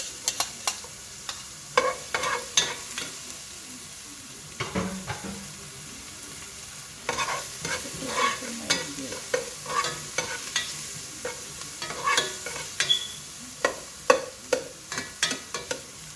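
Onions browning in a pan for a sponge gourd and sardine dish give a soft, steady sizzle, with repeated clattering stirs of a utensil against the pan, close by and without talk.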